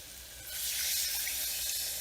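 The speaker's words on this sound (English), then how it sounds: "now we're going to slowly add in our plant milk" Plant milk poured slowly into a pan of scalloped potato sauce, a soft steady liquid rush that swells after half a second and continues evenly, close but fairly quiet.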